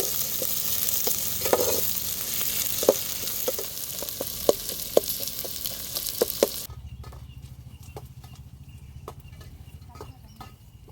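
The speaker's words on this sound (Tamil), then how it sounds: "வெங்காயம் பச்சை மிளகாய் ரெண்டையும் சேர்த்துக்கலாம்" Onions and green chillies frying in a pan, heard as a loud, steady sizzle with repeated spatula taps and scrapes that drops to a softer sizzle partway through.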